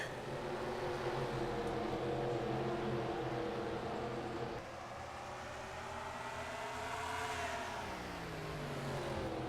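A pack of race cars accelerating away at the start at Martinsville in a racing video game, a loud droning chorus of engines with rising and falling pitch sweeps as the cars rev, continuous throughout.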